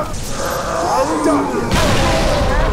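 Grenade blast in Halo 3 ODST, a heavy booming burst midway through, mixed with ongoing gunfire and soldiers' shouting voices.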